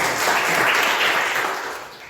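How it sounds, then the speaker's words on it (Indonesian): Classroom applause from students during a teacher's lesson, a dense steady patter of many hands clapping that holds for about two seconds before fading slightly at the end. "tepuk tangan untuk kita semua."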